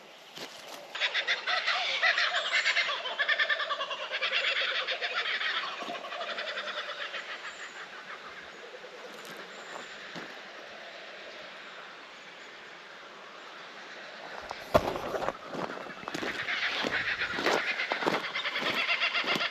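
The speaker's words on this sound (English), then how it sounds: "Listen, kookaburras, cockatoos, water hens" Kookaburras, cockatoos and water hens call around a riverside camp, loud layered squawks and cackling chatter close by, rising and falling with a few sharp knocks.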